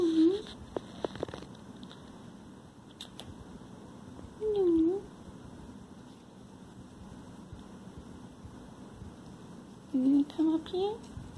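A pet cat gives a few short, rising-and-falling meows, separated by long gaps, over a quiet indoor background.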